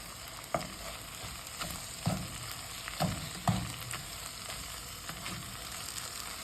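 Curry leaves hit hot oil and fry with a steady soft sizzle, broken by a few dull knocks of stirring, fairly faint and close, no voices.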